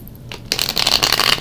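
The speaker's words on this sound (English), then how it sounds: "just 2 more shuffles to go" Tarot cards being shuffled by hand, a quiet pause then a dense burst of rapid papery riffling that continues steadily to the end.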